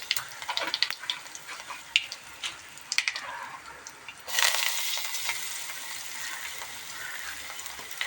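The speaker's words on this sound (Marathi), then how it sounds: "स्टार्टिंगला आपण जिरं टाकून घेऊया." Cumin seeds and asafoetida crackling in hot oil as a tempering for Marathi phodniche varan dal, first scattered pops and clicks, then a louder, steady sizzle that swells and holds to the end.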